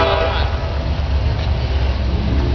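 An NS ethanol freight train led by CN locomotives rumbles past close by with a steady low roar. A short horn blast sounds at the very start.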